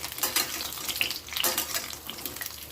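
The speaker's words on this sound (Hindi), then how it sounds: "हम परवल को अच्छे से फ्राई करेंगे इसे" Pointed gourd (parwal) pieces fry in oil in a kadai for shahi parwal, giving a bubbling sizzle with soft wet spatters that rise and fall in quick bursts, near and moderately loud.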